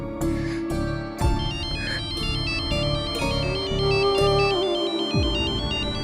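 A phone ringtone plays loudly and steadily, a bright melodic electronic tune repeating its phrase in even pulses for several seconds with no voices over it.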